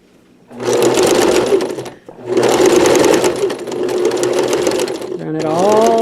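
A sewing machine stitches quilt fabric for a log cabin quilt, fed along the presser foot edge. It runs in two loud, close bursts with a short pause between them, and a voice briefly starts at the end.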